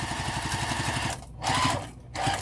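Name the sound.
sewing machine back stitching a crossbody bag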